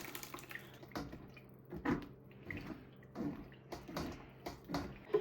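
Butternut squash soup is poured and pressed through a strainer, giving faint, soft liquid splashes and trickles in repeated bursts, with light clinks of utensils nearby.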